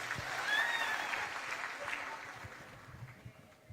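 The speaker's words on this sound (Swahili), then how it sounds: "Makofi ya Immaculate" A crowd applauds a speaker named Immaculate at a county economic forum in Kirinyaga. The clapping is steady and moderately distant, swelling early and then slowly fading, with a faint voice murmuring underneath.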